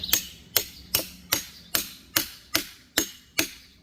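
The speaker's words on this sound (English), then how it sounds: "First thing I got to do is knock this log vise into here" Eight evenly spaced, sharp hammer blows drive a metal log vise into a firewood log, in a steady rhythm, close and clear with nothing else in between.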